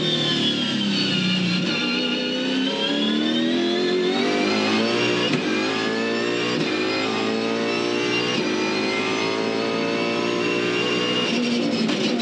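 A 2015 V8 Supercar race car at the Adelaide 500 revs hard through a full onboard lap, its engine note rising and falling continuously with gear changes, loud and close throughout with no talking.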